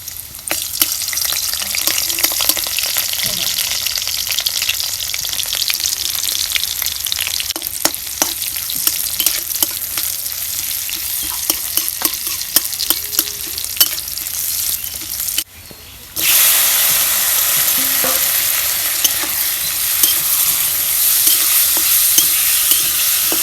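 Onion, chili and tomato sizzle loudly in hot oil with turmeric and salt while a spoon stirs through them, a steady close frying hiss with a brief dip in the middle before it resumes.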